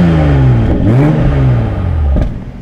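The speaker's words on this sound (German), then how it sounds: "Bitte nochmal Gas geben." A 2020 Toyota Supra with 340 hp revs hard when stationary, its loud exhaust rising and falling in a strong sweep before dropping back toward idle, close up and alone.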